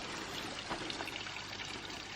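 A small waterfall on a slippery forest trail gives a steady, even rush of falling water, close and continuous, with no voices.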